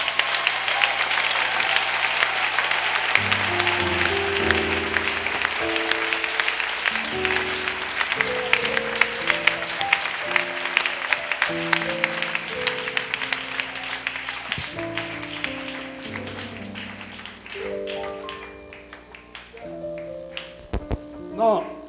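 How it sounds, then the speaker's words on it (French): A church congregation claps steadily and enthusiastically in rhythmic applause, a dense crowd sound underneath a voice speaking, with the clapping thinning out and ending in scattered claps near the close. "acclamons encore plus fort"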